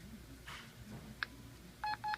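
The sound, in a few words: keypad tones entering access code on Janus elevator phone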